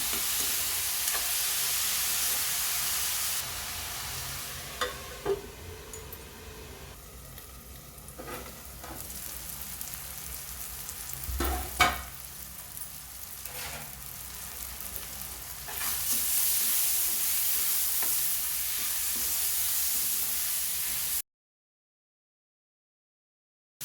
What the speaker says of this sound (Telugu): ఆనియన్స్ బాగా వేగినాయి కదండి